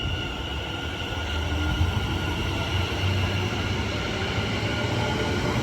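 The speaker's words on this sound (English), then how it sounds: "getting ready to depart now is going to be the 1545 West Midlands Railway service to London Euston" West Midlands Railway Class 730 electric multiple unit departing Watford Junction on the West Coast Main Line, a steady low rumble of wheels and traction motors building slightly as it pulls away, continuous with no voices.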